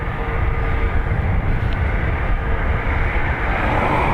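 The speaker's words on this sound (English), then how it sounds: "Wait till we get an ATR or a 330 going by." An Airbus A330 passing at Dublin Airport gives a loud, steady, low rumbling roar with a broad wash of jet noise that holds throughout, with no talking.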